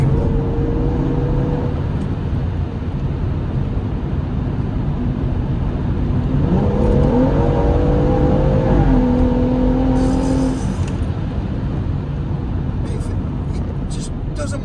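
A BMW M140i engine roars steadily and climbs in pitch as it accelerates hard, with wind and road noise loud throughout.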